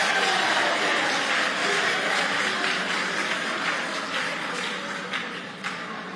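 An audience at a senior high school quiz contest applauds a team, a broad wash of many hands clapping steadily in a hall, fading slightly toward the end.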